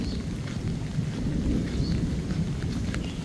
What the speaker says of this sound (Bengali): আকাশ ডাকছে, বৃষ্টি ঝিরিঝিরি হচ্ছে।